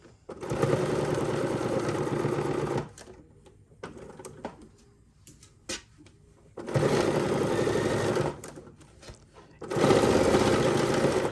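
A sewing machine stitches pinned potholder fabric in three separate runs, each a loud, even mechanical whirr, with near-quiet pauses and small handling clicks between them.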